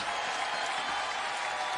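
Basketball arena crowd applauds a player at a college game between Stanford and Indiana, a faint, even spatter of clapping that carries through the short stretch.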